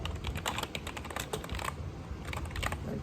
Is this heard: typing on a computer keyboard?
yes